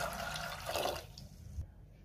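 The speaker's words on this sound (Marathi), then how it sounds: "आता यामध्ये पाणी घालूयात।" Water pours into a pressure cooker holding shelled peas, a gushing splash that fills for about a second before tapering off into quiet with a small knock at the end.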